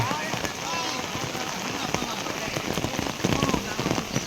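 Heavy monsoon rain in Gujarat pours down steadily, a dense close hiss of drops striking surfaces, while people talk faintly beneath it.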